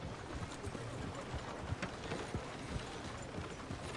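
Horse hooves clip-clopping in Red Dead Redemption 2, a rider slowing toward stables in a frontier town: a faint, uneven series of hoof thuds under low background ambience, no one speaking.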